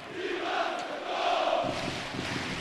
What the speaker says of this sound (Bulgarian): Може би чувате как е посрещнат Иван Цветков от феновете на Ботев.